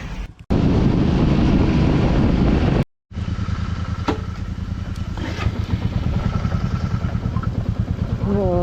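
A motorcycle ridden on the way to the Shivamogga zoo safari, its engine droning loud and steady with wind buffeting the microphone, cutting out briefly twice before the hum resumes.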